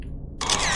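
A single camera shutter clicks up close, a short sharp mechanical burst after a low steady background hum.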